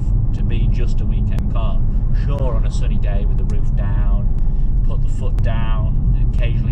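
A BMW M4 Competition Convertible driven with the roof down gives a steady, loud low engine rumble that runs beneath continuous talking throughout.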